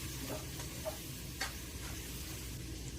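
Chopped medium tomato and ten to twelve green chillies stirred in a pan for a vegetable fish curry, a steady soft sizzle with a few faint scraping stirs, close and continuous, no voices.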